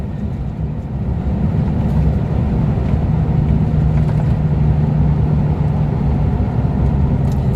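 A 2003 Toyota Hilux pickup with a swapped Lexus 3UZ-FE 4.3 VVT-i V8 cruises at about 100 km/h in fourth gear, under 3,000 rpm. Its engine and road noise form a steady, loud, low drone throughout, with no talking.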